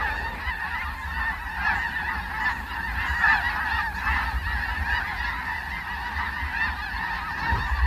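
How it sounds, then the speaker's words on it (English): A large flock of snow geese gathered on the tidal flats of the Tongass rain forest in Alaska honks in a dense, unbroken chorus, steady and fairly loud throughout. "the snow geese start coming in"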